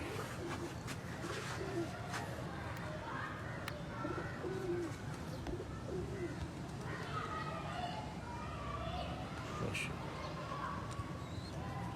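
Young pigeons coo softly and repeatedly in a loft, with low, rolling calls coming one after another over a faint background hum. A voice can be heard talking underneath.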